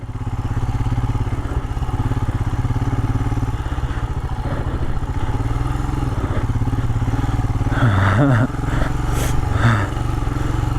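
A motorcycle engine drones steadily at close range on an off-road trail in Canyonlands near Moab, then revs up sharply with a rising whine near the end before settling back.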